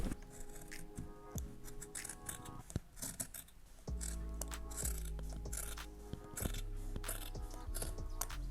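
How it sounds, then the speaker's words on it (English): Scissors shear through old denim jeans being cut to shorts length, a steady run of close rasping snips over a continuous background hum, with no talking. "I'm going to cut as well the length"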